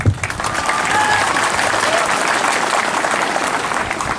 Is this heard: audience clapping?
yes